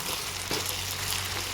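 Potatoes frying over a high flame in a pan for potato egg bhurji, a steady close sizzle running alone through a short stretch.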